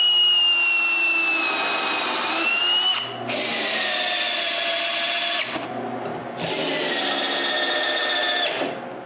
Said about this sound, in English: now I can glue and screw the tabletop in place.